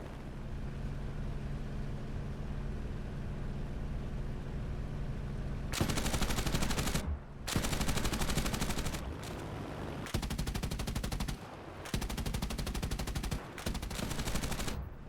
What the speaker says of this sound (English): He managed to approach unobserved and fired a burst of his 20mm cannons into the plane of Captain Ceseña, who bailed out.